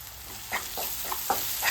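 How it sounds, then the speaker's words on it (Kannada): Capsicum with turmeric, chili powder and garam masala frying in a pan, a soft steady sizzle broken by several brief stirring scrapes at close range, with no talking. "ಇದನ್ನು ಹಾಕಿ ಚೆನ್ನಾಗಿ ಫ್ರೈ ಮಾಡ್ಕೋತಾ ಇದ್ದೀನಿ"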